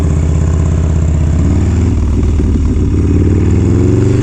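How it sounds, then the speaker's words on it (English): A rebuilt S&S engine in a Harley-Davidson Dyna Lowrider S motorcycle rumbles loud and close, a deep steady idle with a low throb that swells slightly toward the end, with no talking. "There is just nothing like this engine."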